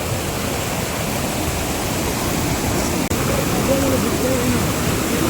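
Steady rushing water roars continuously at Mala Falls in Karkala, Udupi, with a brief dip partway through and faint tonal sounds in the background.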